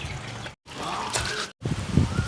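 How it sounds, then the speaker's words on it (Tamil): Water runs from a tap while hands are washed with soap, a close trickling and splashing stream broken by two brief silent cuts, with wet hand-rubbing noises near the end. "சோப் போட்டு கழுவிட்டு வர."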